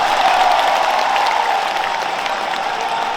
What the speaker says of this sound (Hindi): खुद ताली बजा लो अपने हाथों से।